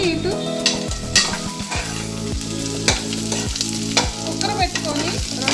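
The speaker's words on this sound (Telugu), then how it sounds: "కుక్కర్ పెట్టుకొని 2 వంతులు ఉల్లిపాయలు, పచ్చిమిర్చి వేసుకొని కొంచెం దోరగా వేగిన తర్వాత" Sliced onions and green chillies sizzle in oil inside a pressure cooker for a mutton gravy curry, with a spoon repeatedly scraping and stirring against the metal in an uneven rhythm over a steady close frying hiss.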